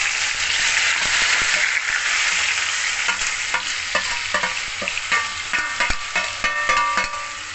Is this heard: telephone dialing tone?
no